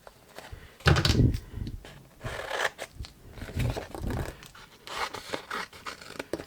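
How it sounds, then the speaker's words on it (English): Scissors cut through velveteen paper while crafting a large lidded Christmas box, making close, rustling snips and scratchy cuts in uneven bursts with no voices over them. "And I'm just cutting out the piece I need."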